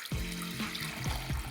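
Cold water running from a tap into a cooking pot, a steady continuous splash with shifting tones as the pot fills, close and fairly quiet, with no talking.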